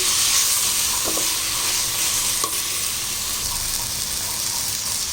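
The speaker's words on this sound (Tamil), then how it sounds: "இதெல்லாம் போட்டு நல்லா வதக்கிடலாம்" Biryani masala, chili powder and garam masala sauté in a pan for seeraga samba chicken dum biryani, a steady close sizzle with occasional scraping stirs and no talking.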